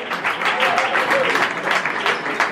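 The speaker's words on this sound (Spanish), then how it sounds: "Un aplauso para Max y su amiga." An audience at a music jam session claps for a young performer and his friend, a short, moderately loud spell of applause with some voices faintly underneath.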